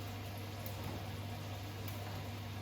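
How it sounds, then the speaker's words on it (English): Mushrooms frying in butter in a hot pan give a steady, even sizzle throughout, a close and continuous crackling hiss with no talk over it. "let them sizzle away for a few minutes until they go nice and brown"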